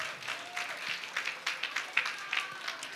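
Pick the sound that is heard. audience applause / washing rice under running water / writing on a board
audience applause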